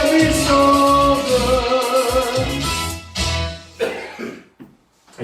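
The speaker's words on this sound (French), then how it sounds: "une petite toux pendant que je chantais celle-là" A singer coughs during a live song performance, short rough bursts near the end breaking through loud music and singing before the music drops away.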